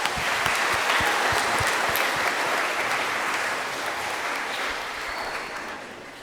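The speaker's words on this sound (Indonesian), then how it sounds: "mohon beri tepuk tangan yang meriah untuk kur paroki kita" A church congregation applauds the parish choir at an Easter Sunday Mass, dense, steady clapping from many hands filling the space and slowly tapering off toward the end.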